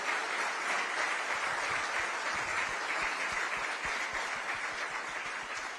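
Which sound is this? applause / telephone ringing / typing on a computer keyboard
applause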